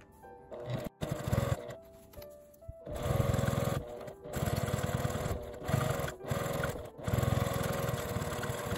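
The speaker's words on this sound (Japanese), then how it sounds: "開いて縫い代は下に倒して端ミシンをかけます。" A home sewing machine runs edge-stitching along a fabric coin-through wallet bag with zipper, in bursts of steady whirring with short pauses between runs, close and fairly loud with no talk.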